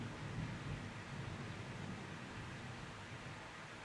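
Deep, steady thunder rumble rolls through a spontaneous rainstorm, a continuous low broadband roar with rain hiss, heard from indoors at moderate level with no voices.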